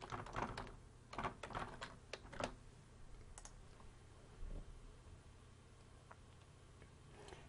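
Quick, light keystrokes tap out a password on a computer keyboard, clustered in short irregular bursts early on, then sparser clicks, fairly quiet and close with no talking.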